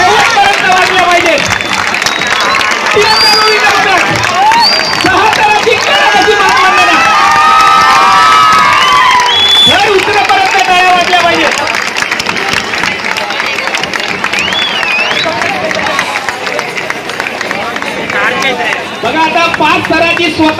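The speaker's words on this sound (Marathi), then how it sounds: "टाळ्या शेवटपर्यंत वाजल्या पाहिजे" A loud crowd cheers, shouts and claps at a Dahi Handi practice camp in Santacruz East, with children's yells and whistle-like calls over constant babble and applause.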